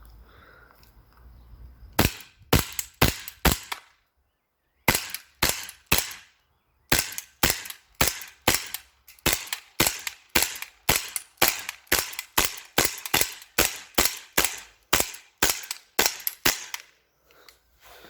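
Rapid bursts of sharp shots from a Colt 1911 R-28 replica pistol fired at a target roughly twenty meters away, loud and close, in quick strings with brief pauses between volleys, no talking.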